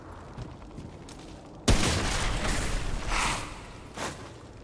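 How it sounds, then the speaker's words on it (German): Gunfire in the video game Remnant: From the Ashes erupts suddenly after a quiet stretch, a sharp blast followed by a sustained burst of shots and crashing debris as barrels are shot apart, loud and close. "was ich ja zu gern mache, ist ja... Fässer kaputt schießen"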